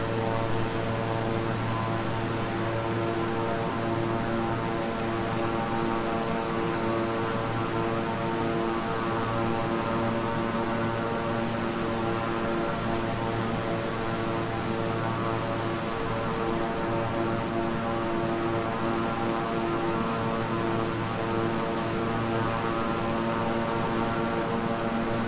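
Twin propeller engines of a King Air 350i in Microsoft Flight Simulator drone in a steady, unbroken cockpit hum with a constant tonal whine, loud and continuous throughout with no talk.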